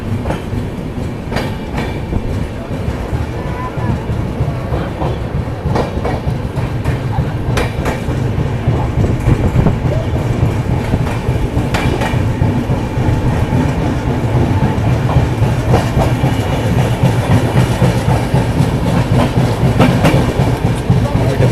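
An Indian passenger train runs along the tracks with a steady rumbling roll and repeated clickety-clack wheel beats, heard from inside the carriage.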